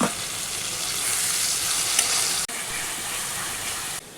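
Onion, garlic, ginger, tomato and green chilli fry in a hot pan with a steady, loud, close sizzle, broken by one brief dip partway through.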